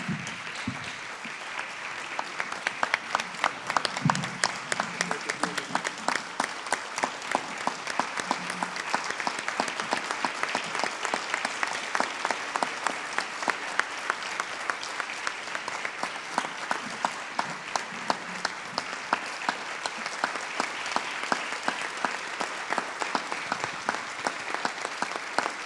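A hall audience applauds award-winning journalist Fabián Medina, head of news at Nicaragua's La Prensa, at a press freedom awards ceremony, with sustained, dense clapping that holds steady for a long stretch.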